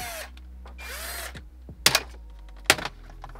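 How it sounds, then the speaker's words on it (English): A power drill fitted with a 7-millimeter socket removes bolts on a Ford Fusion in a few short bursts, spinning up and stopping, with some sharp clicks and clatter in between. "get a 7-millimeter socket, attach it to a drill, and just remove them like that."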